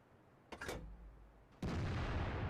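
Two booming tank gun shots from a video game, the first sharp with a short echo, the second heavier and followed by a sustained rumble.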